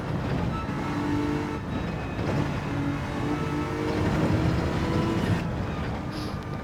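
Racing car engine in Gran Turismo 7 during a BTCC replica league race, a continuous dense drone that holds steady and shifts pitch as the car runs through the gears, loud and constant throughout.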